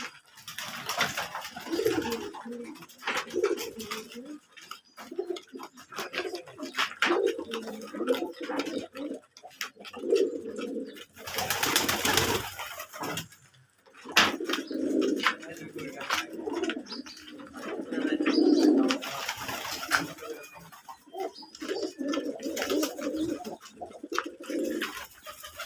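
Domestic Jalali pigeons coo in soft, repeated throaty bursts at close range, with brief gaps and clattering noises between phrases and occasional human voice.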